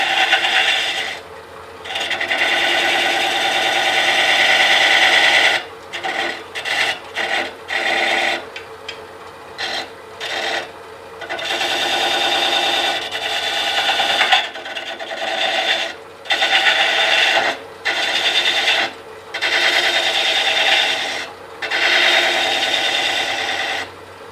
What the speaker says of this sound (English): What we're going to do is chamfer the bottom.